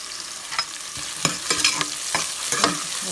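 Garlic fries in a pan for a pork roast with a close, steady sizzle. Several quick stirring scrapes and clanks of a spoon punctuate it, and nobody speaks.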